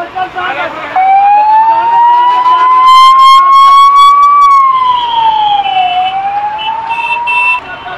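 Loud, close ambulance siren wailing in a steady rising and falling tone through a traffic jam at a toll plaza on the road to Delhi, dominating the scene with traffic noise beneath.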